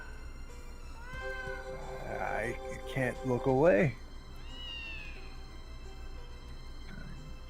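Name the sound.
cats meowing in video game Neko no Kaikata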